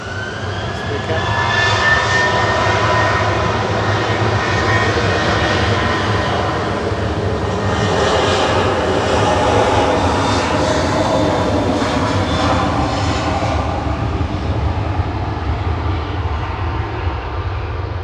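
A jet aircraft rolls down the runway at Manchester Airport, a loud, close, sustained engine roar with a deep low rumble and rising whine building over the takeoff run.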